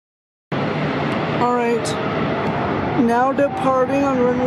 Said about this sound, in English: Listen to that GE90 engines. Sounds amazing.